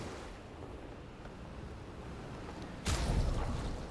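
Water waves in the video game Clair Obscur: Expedition 33 make a steady, breezy wash that swells into a louder surging splash near the end, with no voices.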